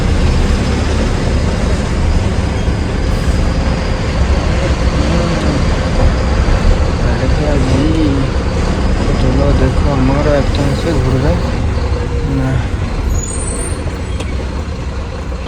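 Trucks and other vehicles slowly maneuvering and trying to turn on a crowded road near a parked motorbike, with a steady loud engine rumble, air-brake hiss and traffic noise throughout, and voices talking over it.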